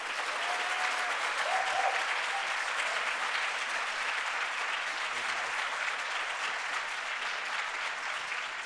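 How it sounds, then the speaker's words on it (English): Sustained audience applause in a conference room after a Jessup moot court authors' discussion, with even, dense clapping at steady loudness throughout and no talking. "there's a group of people who can literally give a huge round of applause for these people"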